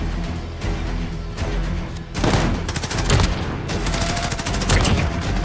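Rapid bursts of gunfire crackle in a Modern Warfare gun game match, dense overlapping shots in quick volleys, loud and close, continuing without pause.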